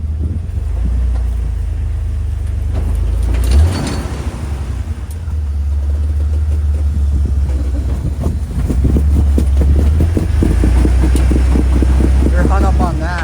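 A Jeep TJ grinds along an off-road line, its engine droning low and steady with a brief dip and surge midway, wind buffeting the microphone while people talk over it.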